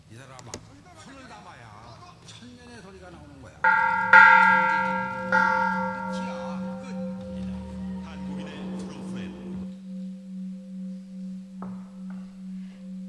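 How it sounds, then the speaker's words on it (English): A large Korean bronze bell is struck once, booming loudly, then its deep hum lingers and pulses slowly as it fades, after a little background chatter. "the sound of Korean bell"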